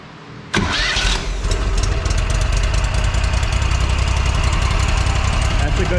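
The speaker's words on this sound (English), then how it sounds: "let's first see if it'll fire up and make sure we don't have any weird noises" A Walker lawn mower engine cranks and fires up abruptly after a brief quiet moment, then settles into a loud, steady close-up running rumble.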